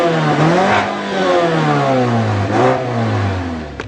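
A 2014 Mazda6 Grand Touring with a 2.5-liter Skyactiv four-cylinder of 184 horsepower accelerates, its engine note rising steadily in pitch, dipping briefly at a gear change and climbing again, loud and close throughout with no talking.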